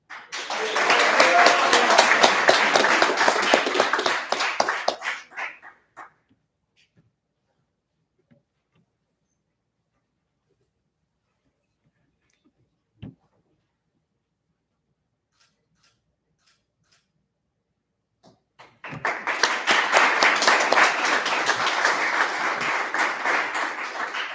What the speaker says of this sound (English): give Chloe a big round of applause